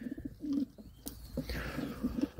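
Mature racing pigeons coo on arrival back at the loft after a training flight, a few soft low throaty calls close by over quiet background.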